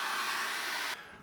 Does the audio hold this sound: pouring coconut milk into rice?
no